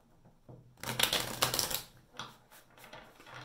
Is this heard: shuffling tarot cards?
yes